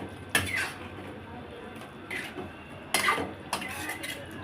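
A spoon stirring chicken curry with garam masala in a pot, producing several distinct scraping clinks and metallic knocks at irregular intervals over quiet background.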